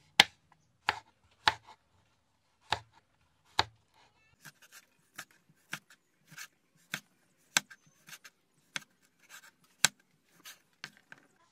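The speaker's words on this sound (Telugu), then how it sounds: "బీన్స్ అయితే కట్ చేయడం అయిపోయింది" A knife chops green beans on a cutting board in sharp, separate strokes, a few quick single cuts at first and then steadier, closer chops, each one clear and close with nothing else heard.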